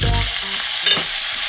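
Leek fries in hot oil with a bright, constant sizzle and faint stirring scrapes, loud and close throughout.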